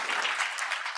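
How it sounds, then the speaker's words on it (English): An audience applauds at a pitch competition, a steady wash of clapping filling the whole second at moderate, even volume. "give another round of applause to our social impact founders"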